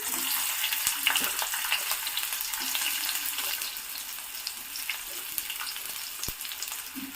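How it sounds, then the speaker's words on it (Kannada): Onions sizzling steadily in hot oil for an egg curry, a dense close crackle with occasional stirring clinks, no voices. "ಈಗ ಈರುಳ್ಳಿ ಹಾಕೊಂತ ಇದ್ದೀನಿ"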